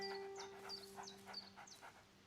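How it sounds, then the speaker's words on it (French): A small dog in the video game A Plague Tale pants in quick repeated breaths with a few soft whimpers, faint and steady over a low game ambience hum, with no talk. "Le petit chien."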